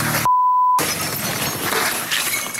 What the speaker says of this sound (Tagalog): rinig ang malakas na pagkabasag ng salamin ng motor.